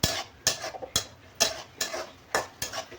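Okra gravy masala roasting in a pan for a dhaba-style bhindi dish, a spoon stirring and scraping in sharp repeated strokes about every half second over a soft sizzle, close and without voices.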